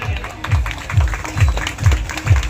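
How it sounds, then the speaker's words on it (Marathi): An audience at a marathon prize ceremony claps in a rhythmic unison beat, about two claps per second, moderately loud, with some crowd murmur underneath. "ठिकाणी टाळ्या वाजत राहू द्या"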